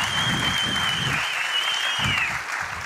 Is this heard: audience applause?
yes